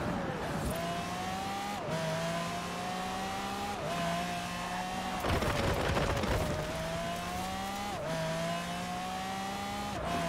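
A Pagani supercar's engine in the racing game Forza Horizon 4 drones steadily and loudly, with repeated rising revs and gear-shift drops roughly every two seconds and a brief rougher burst midway, heard alone without talk.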